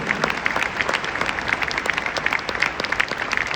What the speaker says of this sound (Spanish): Nuevamente, un fuerte aplauso para el doctor Henry Eder Caicedo.